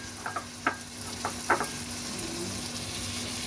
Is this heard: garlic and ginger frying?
yes